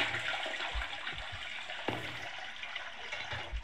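A toilet flushes in the OutRun demo video game, a rushing, gurgling water sound that swells and drains for a few seconds with no talking over it.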